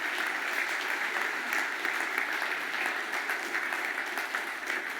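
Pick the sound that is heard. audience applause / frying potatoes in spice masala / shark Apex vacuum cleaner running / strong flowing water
audience applause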